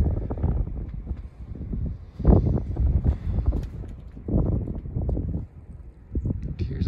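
Gusty wind buffeting the microphone on an open Appalachian Trail hike in the Grayson Highlands, low rumbling surges that rise and fall in uneven waves, loud and close.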